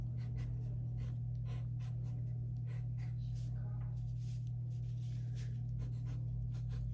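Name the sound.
drawing stars with a pen on craft paper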